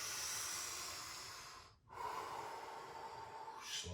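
Slow, audible breaths during an at-home basketball conditioning workout: a long airy inhale, a brief pause, then a drawn-out exhale, close and steady with no talking.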